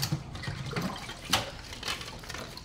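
Tap water running while hands are washed at a sink, a steady splashing stream with uneven surges, close and alone.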